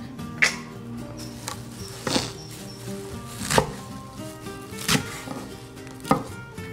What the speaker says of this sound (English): You're going to give this a rough chop